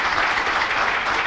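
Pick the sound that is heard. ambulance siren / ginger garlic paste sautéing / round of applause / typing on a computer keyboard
round of applause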